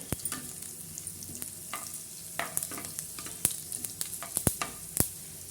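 Green chillies fry in a pan, giving a soft, quiet sizzle broken by frequent sharp crackles and pops, heard up close with no one speaking.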